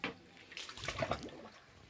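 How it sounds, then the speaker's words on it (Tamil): Water poured from a container onto plants in a garden grove, a short splashing trickle that rises and falls, fairly close and unaccompanied. "செடிக்கு தண்ணி ஊத்துங்க, செடிக்கு தண்ணி ஊத்துங்கம்மா."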